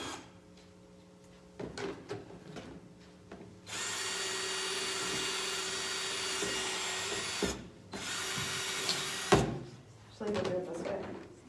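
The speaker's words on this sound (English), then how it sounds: "I'm going to drill some holes in the bottom" A power drill whirs in long, steady bursts, cutting holes through the bottom of a plastic container, with clicks and handling noises between runs.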